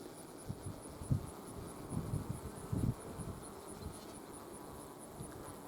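A hive of honeybees hums around a newly emerging queen, a faint, steady buzz sitting low in the background, with soft scattered thumps and rustles close by.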